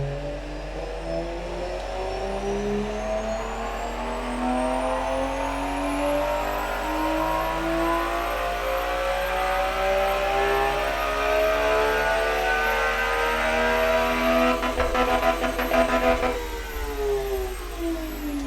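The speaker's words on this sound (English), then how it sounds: "So this is basically the dyno run I was telling you guys about." A video game car engine revs on a dyno in one long sustained climb, pitch rising steadily to a high whine before cutting off with crackling near the end; no talk.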